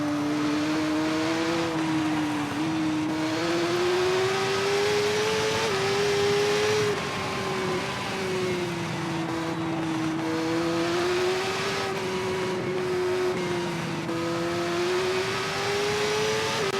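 Racing motorcycle in TT Isle of Man 2 on the Isle of Man course: a continuous, loud high-revving engine whine that rises and dips with gear changes and throttle, with no pauses.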